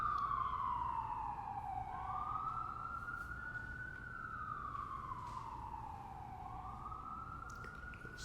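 An emergency vehicle siren wails, sweeping slowly up and down in pitch, loud and continuous, over a low rumble of New York City traffic.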